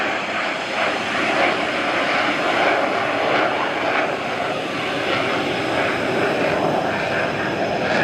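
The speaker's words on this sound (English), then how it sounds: "This Joss Gripen jet was flying really slow when another jet almost hit it." A Saab JAS 39 Gripen fighter jet flying slowly, its engine a loud continuous roar that holds steady throughout with no talking.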